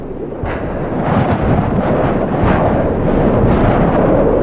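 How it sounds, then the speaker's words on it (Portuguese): A blizzard wind drives snow across open ground in a steady, loud, broadband roar with gusting surges and no pauses, alone without talk. "O vento leva os cristais de neve por sobre a terra."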